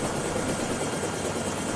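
Helicopter in the video game Planet Explorers, a steady, dense rotor and engine drone that holds at an even level throughout, with no voices.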